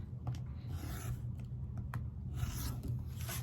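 Scissors or a rotary blade rasp and crunch through excess quilting fabric for a flying geese block, short repeated close cutting strokes over a low steady hum, no voices.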